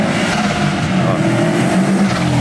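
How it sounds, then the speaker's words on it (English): A turbocharged car with an OEM-plus exhaust accelerates hard through a tunnel, its engine roaring loudly and echoing with turbo whoosh layered over the throaty exhaust note. "Hear the turbos."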